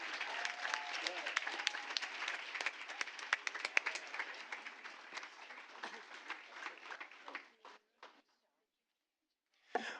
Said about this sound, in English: let's have a round of applause for our State Solo Ensemble Golds